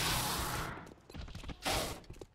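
Gunfire in the XCOM strategy game: two loud, broadband bursts of shots, one at the start and one shortly after a pause, with fainter clatter in between and no talk.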